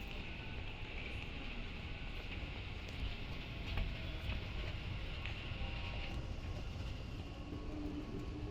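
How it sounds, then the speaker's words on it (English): A fully automatic Dubai Metro train rumbles steadily along the track, a continuous dense roar with faint rattles and squeals, no voices. "The trains on the Dubai Metro are fully automatic and run frequently"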